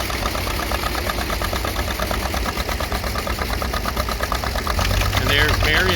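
A vintage tractor engine labors steadily while pulling a plow through dirt at a plowing event. It chugs loud and close with a rapid, even knocking rhythm, and the throb deepens near the end, with no voices over it.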